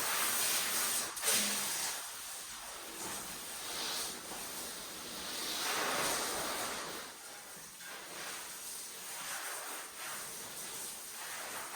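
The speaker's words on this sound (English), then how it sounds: "I will give the vehicle its final CR Spotless rinse." A car gets its final rinse with CR Spotless water, a steady broad hiss of spraying water that swells and fades slightly as the stream moves across the panels, with no one speaking.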